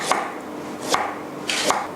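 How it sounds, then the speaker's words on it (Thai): Three crisp knife chops slicing mature ginger on a cutting board, spaced about evenly apart, close and fairly loud with quiet between strokes. "เริ่มจากการ หั่นแว่นนะคะขิงแก่ค่ะ"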